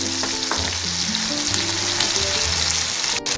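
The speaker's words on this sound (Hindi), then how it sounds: "धनिया, जीरा, अजवाइन एंड साथ में प्याज डाल दो फटाफट।" Coriander, cumin, carom seeds and onion crackle and sizzle in hot oil, a loud, close, continuous frying hiss with light popping, ending with a brief clatter.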